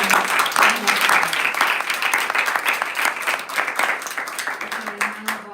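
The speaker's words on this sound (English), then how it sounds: "So one last big round of applause for them." An audience at a Śrīla Prabhupāda Vyasa Puja celebration at the Bhakti Center gives volunteers a sustained round of applause, a dense, loud clapping that carries on from start to finish with a few cheers mixed in.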